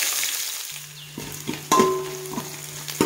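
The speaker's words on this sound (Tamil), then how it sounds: "வெங்காயம் நல்லா வதங்கிருச்சு," Onions and garlic sizzle steadily in hot oil with mustard seeds, fennel and fenugreek, a close frying hiss punctuated by a few sharp pops and clicks of stirring, with no talk.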